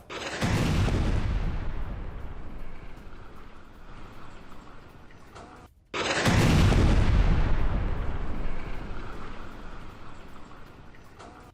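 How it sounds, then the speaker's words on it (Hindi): Two heavy explosions from Israeli air strikes on Beirut, each a loud, deep booming blast that rolls on with a long rumbling tail, the second following about six seconds after the first, with no talking. "बेरूत में इजराइल के दो बड़े एयर स्ट्राइक हुए"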